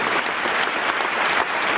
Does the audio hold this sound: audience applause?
yes